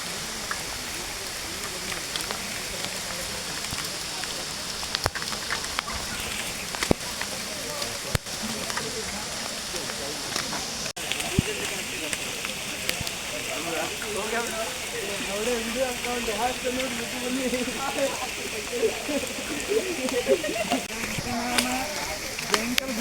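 Heavy monsoon rain falling steadily on a hilltop, a dense hiss with scattered drop impacts throughout.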